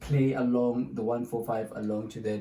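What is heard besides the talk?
No everyday noise stands out behind the speech.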